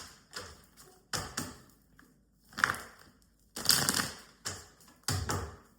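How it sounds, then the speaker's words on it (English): Tarot cards being shuffled by hand, a series of crisp riffling and tapping bursts repeating in uneven rhythm, close and fairly quiet, with no talking. "I'm going to give it a good shuffle."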